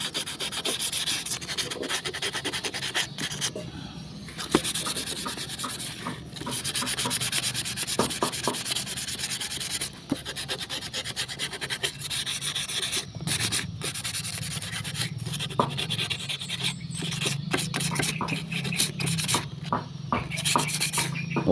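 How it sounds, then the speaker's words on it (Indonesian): Sandpaper scrubs rust off old metal scissors in a continuous, close rasping rub, stroke after stroke with brief irregular pauses. "Ini kita bersihkan karat-karatnya ini dulu. Kita amplas sehingga menjadi lebih bersih lagi."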